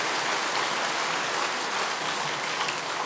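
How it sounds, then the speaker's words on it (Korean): A church congregation applauds during an evening summer camp service, with dense, steady clapping that fills the whole stretch at an even level and no voices on top. "다시 한번 큰 박수로"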